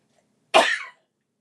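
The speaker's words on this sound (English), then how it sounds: "I gotta sneeze." A single short, sharp sneeze bursts out close by in an otherwise quiet room during card-making, lasting under half a second.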